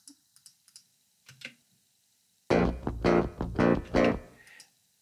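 A clean DI electric guitar signal with no overdrive, raw and unprocessed, for a heavy metal mix: faint string and pick clicks first, then several loud, chunky, palm-muted chugs played in a choppy rhythm.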